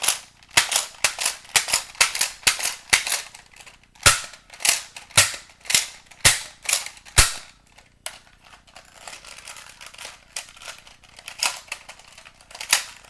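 Nerf N-Strike Elite toy blasters fire foam darts in a rapid series of sharp, loud, close pops with short gaps between them, then a few quieter mechanical clicks and rattles of the blasters.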